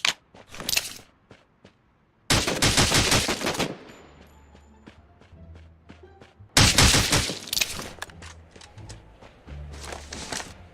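Bursts of gunfire in the mobile battle royale game Rules of Survival, with two long, loud automatic volleys and scattered single shots between them, plus faint in-game thumps and clicks.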